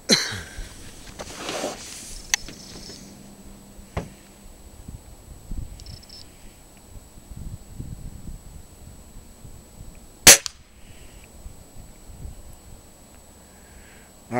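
A single sharp crack from a Beeman dual caliber air rifle fired off a bag rest, close and brief, followed by quiet with faint handling noises.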